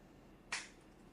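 One sharp hand clap, a single crisp snap heard faintly over a quiet room background, short and percussive with a quick decay.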